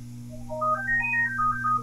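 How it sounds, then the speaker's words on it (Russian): A phone ringtone plays a bright electronic melody that climbs and then steps back down, moderately loud over a steady low hum, with no voices. "опять кто-то мне звонит"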